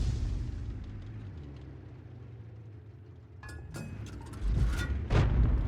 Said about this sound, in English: And the Hummel is already shooting at him.